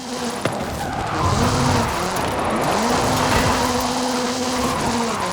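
Ford Focus RS RX Gymkhana 10 rally car with a 2-litre turbocharged front-mounted engine and all-wheel drive in Forza Horizon 5, droning steadily at close range with a rising and falling rev note and a gritty, buzzy tone throughout.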